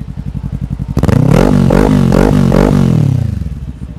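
A Kawasaki Ninja 400 motorcycle fitted with an aftermarket muffler idles with a close, lumpy burble, then revs hard in several quick throttle blips before dropping back to idle.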